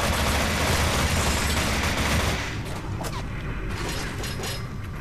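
Dense, continuous gunfire in the video game NecroVisioN, a loud sustained barrage of overlapping shots that thins slightly partway through, with scattered sharper cracks continuing to the end.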